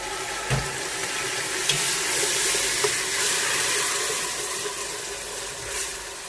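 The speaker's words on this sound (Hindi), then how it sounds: "थोड़ा सा पानी डालेंगे।" Water streams steadily into a frying pan of spices for aloo gobi with a continuous hissing, splashy wash and faint sizzle, a few small clinks over the flow.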